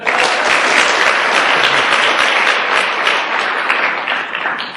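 A seminar audience bursts into loud, sustained applause, dense clapping filling the room evenly for several seconds before easing slightly at the end.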